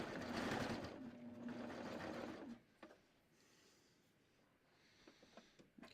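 A sewing machine stitches a fabric hem at a long stitch length, a loud close steady whir for a couple of seconds, then stops, leaving faint handling noises.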